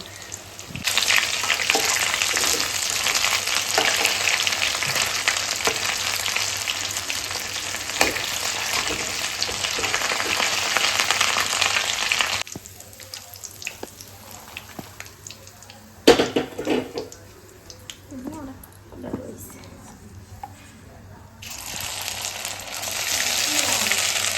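Oil fries steadily in a home kitchen pan with a loud, continuous sizzle for about half the time, then drops to quieter clatter and handling before the sizzle returns.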